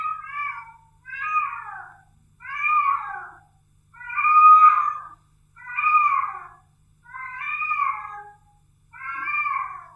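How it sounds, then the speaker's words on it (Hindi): A cat meows seven times in a slow, evenly spaced series, each call a drawn-out, wavering cry that is clear and fairly close against a quiet background, with no voices present. "ये मुझे लग रहा है कोई बिल्ली बिल्ली रो रही होगी"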